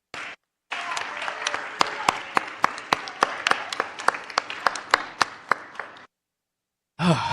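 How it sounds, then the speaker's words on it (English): At a Board of Aldermen meeting, an audience gives a round of applause: a burst of many hands clapping with distinct sharp claps standing out, lasting about five seconds before stopping abruptly. "If we can just give them a round of applause as well."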